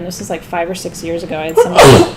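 A person sneezes once, loud and close, at the end of a short stretch of classroom talk, after a speaker is heard talking.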